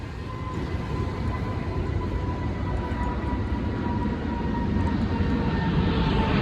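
An airplane passing over a park makes a steady, low broadband rumble that holds for several seconds and grows slightly louder toward the end, with no voices.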